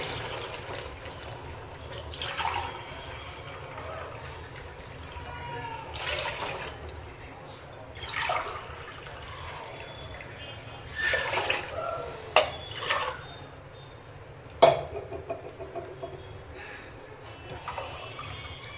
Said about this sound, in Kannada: ಈ ಲೋಟದಲ್ಲಿ 4 ಲೋಟ ನೀರು ಹಾಕ್ತಾಯಿದ್ದೀನಿ